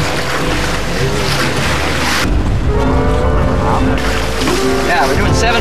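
Wind and water rushing past a sailboat under way, a loud, broad wash of breeze and splashing waves, with a person talking over the noise for much of the time.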